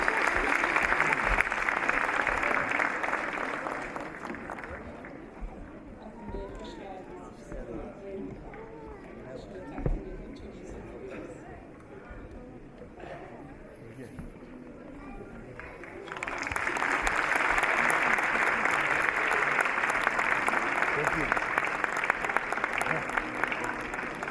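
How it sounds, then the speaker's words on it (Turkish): At a concert, an audience bursts into loud applause as a guest is invited on stage; clapping fills the opening seconds, someone speaks in Turkish over a quieter room through the middle, then strong applause rises again. "Macit Hanımefendi'ye plaketini vermek üzere Kültür ve Sosyal Daire Başkanımız Sayın Akın Erim Beyefendi'yi yüksek alkışlarınızla sahneye davet ediyorum efendim"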